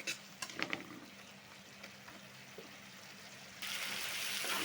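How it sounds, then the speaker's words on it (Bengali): Masala with chopped green chilies for a shrimp curry sautés quietly in a pan, a faint steady sizzle with a few soft stirring clinks early on, then a louder rush of frying toward the end. "দিয়ে মশলাটা আমি ভালোভাবে কষিয়ে নেব"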